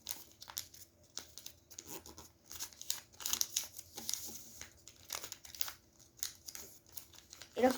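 Paper being folded into a triangle for a sunflower origami spinning top, with soft crinkling and creasing rustles in short bursts, fairly faint and close, with a few sharper crackles.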